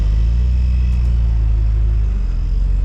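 Nissan R34 GTR engine idling at Fuji Speedway with a deep, steady low rumble, close and loud, continuous throughout with no talk.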